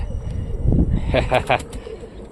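Pigeons coo softly in a coop in short warbling notes under low rumbling background noise, with a few brief higher chirps close by.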